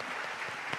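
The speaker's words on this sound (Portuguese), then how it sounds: "A gente só vai parar de aplaudir quando o último passar pela porta." A church congregation claps together during a worship service, a faint, continuous patter of many hands with no clear breaks.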